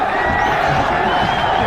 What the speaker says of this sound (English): Fantastic to hear and see such a noisy crowd away to our left.